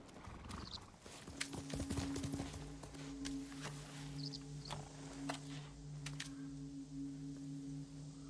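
Horse hooves clip-clop steadily in Ghost of Tsushima, with a whinny and a low steady drone running underneath; the hoofbeats are close and fairly loud, with no talk.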